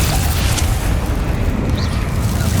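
Confringo fire spell blast in the game Hogwarts Legacy, a loud, close, rumbling boom that fills the whole stretch with broad noise, like a sustained explosion.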